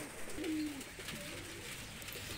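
A pair of golden pigeons, a golden male and a Chinese hen, give a short soft coo, close and fairly quiet over a low background hum.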